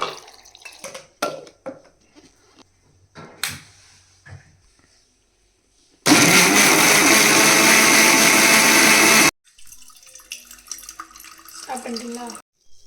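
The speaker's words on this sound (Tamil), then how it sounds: "இது கூட கொஞ்சம் தண்ணி ஊற்றி அரைச்சிக்கலாம்" A kitchen blender grinds chopped watermelon with sugar and a splash of water into juice, a loud steady whir of about three seconds. Quieter handling sounds and clatter come before and after it, with no voices.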